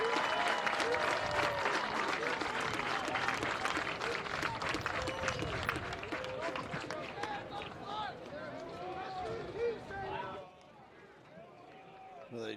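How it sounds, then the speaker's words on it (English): A stadium crowd at a college football game applauds a Hall of Fame class, broad distant clapping and cheering under talk, dropping off near the end. "one more round of applause for Bridgewater College Athletic Hall of Fame"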